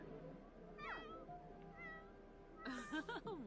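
Hungry pet cat in The Sims video game meowing in several rising and falling cries, with a louder, brighter meow near the end, over a low background hum and faint game ambience.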